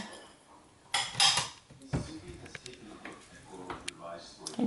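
Bowls and dishes clinking and clattering as they are handled while making Danish risalamande, with a loud burst of clatter near the start and lighter knocks throughout, under people talking.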